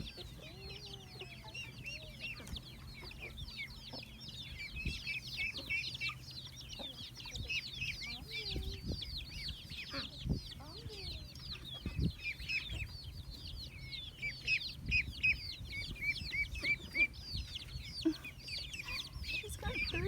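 Chickens cluck continuously at the front of the scene, a busy overlapping chatter of soft calls and higher squawks with occasional faint low voices beneath.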